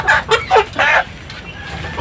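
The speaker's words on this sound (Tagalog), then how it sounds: "Ito yung BPR ko guys, mga kabakyard, na heritage chicken, 3 months old." Three-month-old Barred Plymouth Rock heritage chickens cluck close by in a backyard, several short, loud bursts in quick succession before fading to quiet.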